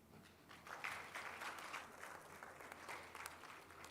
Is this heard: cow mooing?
no